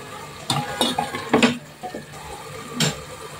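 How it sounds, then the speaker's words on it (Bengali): Prawns stirred into a sautéed spice paste in a pan give a soft sizzle under repeated clattering scrapes and knocks of a spoon against the pan, several close, irregular bursts. "এই কষানো মশলার সাথে এই আমার চিংড়িগুলোও দিয়ে দিব।"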